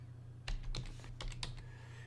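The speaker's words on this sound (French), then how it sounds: "Et touche entrée du clavier pour accepter." Keys on a computer keyboard are tapped in a quick, irregular burst as a layer name is typed in Photoshop, close and soft over a faint low hum with no voice.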